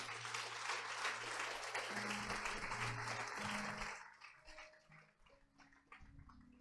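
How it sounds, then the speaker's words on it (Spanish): A church congregation at a Sunday service claps in praise, a dense, moderately distant wash of applause lasting about four seconds before fading into low murmurs and stray sounds. "Dele un aplauso a nuestro Dios."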